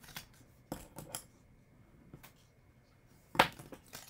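Scissors snipping paper while making a pop-up card, a few short crisp cuts separated by quiet gaps, with one sharper snip near the end.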